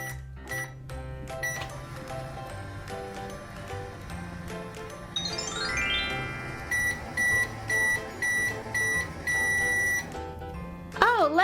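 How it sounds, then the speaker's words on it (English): A toy microwave oven hums along while electronic beeps sound in steady repeated bursts, followed by a short warbling electronic tone at the end, with a voice talking near the start. "let's get Rocky in the microwave and see what happens."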